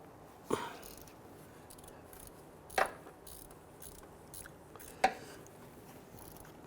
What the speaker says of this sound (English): We can use a 14 millimeter deep socket through the wheel well and our ratchet. Let's go ahead and loosen that.